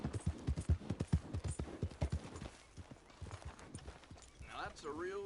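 Horse hooves in the video game Red Dead Online clip-clop in a quick, steady rhythm, loud and close, fading slightly before a voice speaks at the end.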